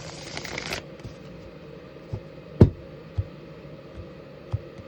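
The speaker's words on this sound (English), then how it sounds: "3 more shuffles for you" Tarot cards riffle-shuffled during a live reading: a dense papery burst in the first second, then sparse soft taps and one sharp card slap as the deck is split and squared, close and fairly quiet, with no voices.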